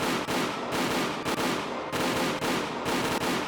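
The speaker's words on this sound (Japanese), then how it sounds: "発砲許可。 撃て撃て撃て撃て撃て撃て" Rapid automatic gunfire from the video game Higurashi When They Cry, loud and sustained, with dense bursts broken by brief gaps about every half second and no talking.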